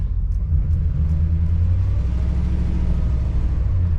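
A van reversing up a really steep hill, a steady low engine rumble and drone that holds even and close throughout, with no clunking and no voices.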